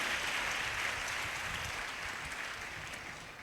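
A church congregation in Khammam claps hard in praise, a dense, steady wash of many hands that fades slightly toward the end, with no voices over it.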